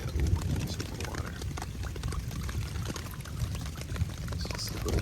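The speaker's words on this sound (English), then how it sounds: "I'll take that and I'll put it in my water filter." Water pours steadily into a water filter bag on a trail, a continuous close splashing trickle lasting several seconds with no talk over it.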